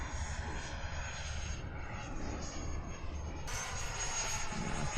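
The engine of a Raptor Lite RC model airplane in flight at an RC flying field gives a continuous, fairly loud buzzing whine. It holds steady throughout, with a shift in pitch near the end.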